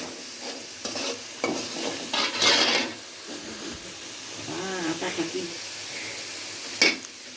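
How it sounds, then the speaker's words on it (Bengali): Spices, including cumin powder, fry in a pan with soft sizzling and scraping stirs in bursts, fairly quiet and close, with a short hiss near the end. "মশলাগুলো ভাজা ভাজা হবে।"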